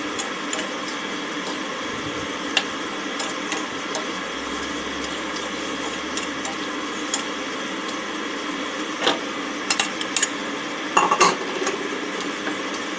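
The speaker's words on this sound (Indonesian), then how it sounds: "Aduk-aduk." Beef rendang with coconut milk being stirred in a pot, soft intermittent scraping and clinks of a utensil against the pot over a steady background hiss.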